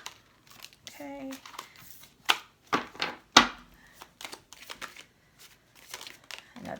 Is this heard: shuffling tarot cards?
yes